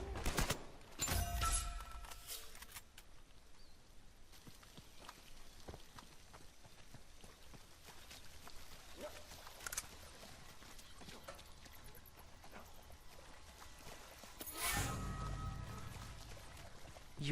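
Gunfire in Uncharted 4 multiplayer, quiet scattered shots and bursts spread over a mostly low background, with two louder blasts near the start and near the end.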